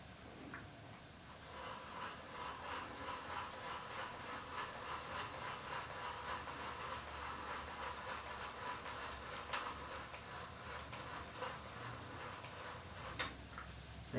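A hand brace and bit boring a tenon hole through a wooden chair seat, a steady continuous grinding rasp with faint rhythmic ticks as the bit turns, close and even throughout.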